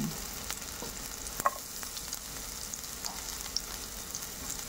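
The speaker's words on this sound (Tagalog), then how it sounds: "i-add na natin yung bawang" Garlic sautés in a pan with garbanzos cooking, a quiet, even sizzle broken by a few light clinks from stirring, with no voices.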